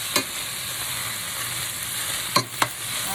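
Plant-based chicken pieces frying in a pan, a steady bright sizzle with a few brief clinks or scrapes, close and alone.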